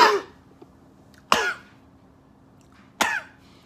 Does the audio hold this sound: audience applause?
no